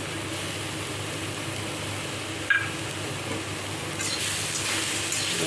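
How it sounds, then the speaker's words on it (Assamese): Grated coconut and sugar fry in a hot kadai (wok), giving a steady low sizzle that brightens and grows a little louder partway through, with a brief clink near the middle. "এতিয়া ভাজি ল'ম নাৰিকলখিনি"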